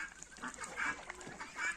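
Muscovy ducks give a few soft, nasal honking calls nearby, irregularly spaced and fairly quiet.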